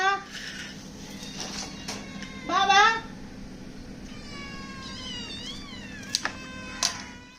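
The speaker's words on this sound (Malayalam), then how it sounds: "ഇപ്പോൾ നിങ്ങൾ കണ്ടത് അമ്മ വിളിച്ച് പോടി വന്ന പൂച്ചസാറിനെയും കുഞ്ഞിനെയാണ്" A cat meows several times at home in a domestic setting, drawn-out rising calls standing out clearly, with faint background noise and a voice briefly in between.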